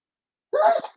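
One short, sharp sneeze bursts out after a moment of silence, close and fairly loud.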